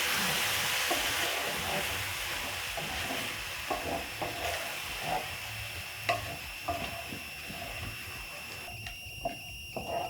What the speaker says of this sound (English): So to my meat, I'm going to add 3 blended tomatoes. Then I'm going to stir.